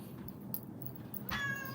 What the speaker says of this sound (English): You meow, you meow,